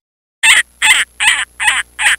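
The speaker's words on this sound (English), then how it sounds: "Falcon." A falcon gives five harsh, evenly spaced calls, loud and close with short silent gaps between them.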